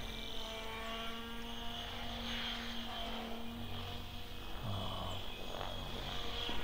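A Synergy 696 RC helicopter with plastic tail blades flies nearby, giving a steady whine with buzzing rotor harmonics that shift slightly in pitch, under a constant drone.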